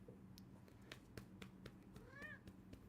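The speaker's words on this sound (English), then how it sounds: "My cat is in the room, fellas." A pet cat meows once indoors, a short, rising-and-falling call heard close by, with scattered soft knocks and clicks around it in a quiet room.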